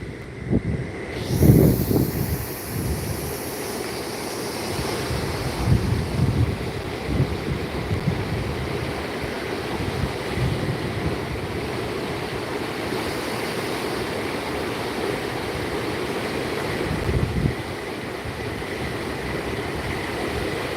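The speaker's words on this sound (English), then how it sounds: "The water's shooting up right by me." Water surging and splashing against the shore at a creek park on a cold day, a steady broadband wash with a few louder bursts, close by and continuous, mixed with wind buffeting the microphone.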